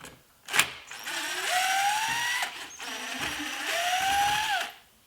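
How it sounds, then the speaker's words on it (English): A power drill backs screws out of a plywood cabinet leg in two long, whining runs after a short knock, the motor pitch rising as each screw loosens, close up with no talking. "then remove the screws"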